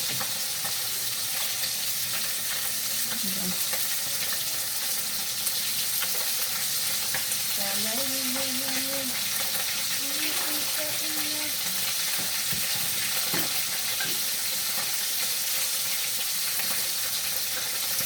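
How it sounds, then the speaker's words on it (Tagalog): Fish frying in hot oil, fresh from the sea, giving a steady dense sizzle with crackling through the whole stretch, plus brief clinks of a utensil and faint background voices mid-way. "Ganyan lang kabilis magprito."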